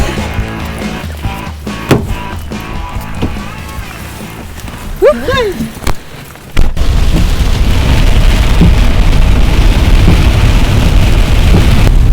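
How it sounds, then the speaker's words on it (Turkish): Heavy rain pours steadily and loudly in Kütahya, Turkey, near bungalows and a restaurant, a dense wash of noise that starts abruptly midway after a stretch of talk and other sounds. "gezilerimizin yağmuru hiç bitmiyor arkadaşlar"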